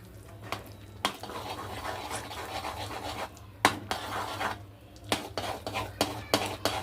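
Mango chutney is stirred in a pot, producing quiet, irregular scratching and scraping strokes that come in short bursts against a faint low hum.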